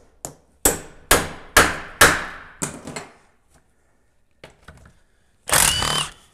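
Hammer blows on a GM/Cummins 400 transmission to knock a stuck part loose: five or six sharp, loud metallic whacks in steady rhythm, then a pause, a couple of lighter knocks and a final rattling clatter.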